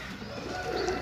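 Pigeons at a loft in Sarai Alamgir, Gujrat, cooing softly and steadily at close range, with low murmuring coos running through the whole moment and no talk.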